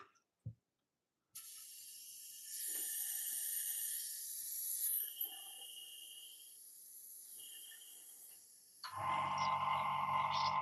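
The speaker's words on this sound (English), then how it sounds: "Clean out quickly the airbrush." An airbrush being cleaned out, releasing a long steady hiss of air after a couple of brief knocks, the hiss shifting in strength midway and ending in a louder, fuller blast.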